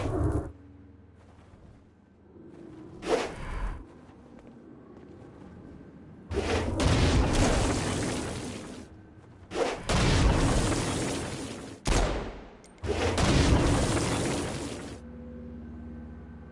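Stone Blast explosions striking flying demons in a video game, several loud booming bursts in separate clusters with short gaps of quieter ambience between them.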